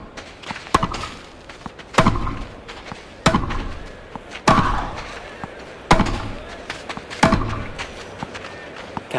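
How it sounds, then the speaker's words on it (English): Tennis ball strikes in the video game Grand Slam Tennis 2 land as sharp, loud thumps every second or so, alternating between players, with faint crowd and court ambience between shots. "Thumping forehand into the backhand corner."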